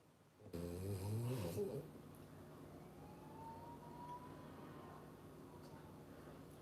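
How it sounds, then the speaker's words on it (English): A dog breathes heavily with a snore-like rasp, a louder snorting burst at first, then a steady rough rumble that continues close to the microphone. "That's my dog. He's not snoring."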